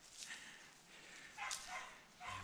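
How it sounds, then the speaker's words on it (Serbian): Hunting dogs, a hound and a yellow dog, bay at a wild boar held in place in thorny brush outdoors, giving a few faint, distant barks and yelps over quiet background. "Evo gde ga laju."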